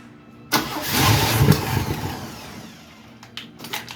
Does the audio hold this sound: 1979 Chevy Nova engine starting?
yes